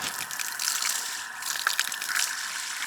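Water gushes steadily from a village fountain in Grions, a continuous close hiss and splash with small clinks on top, no one speaking.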